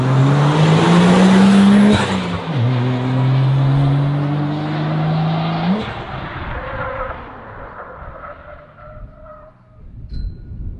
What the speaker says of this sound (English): let's see how the brake test goes.